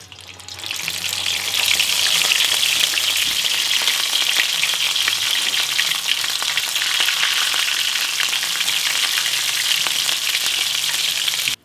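Tiny venison tacos frying in very hot oil, a loud, steady, close sizzle with a dense crackle that starts abruptly and keeps going without a break, and no voices.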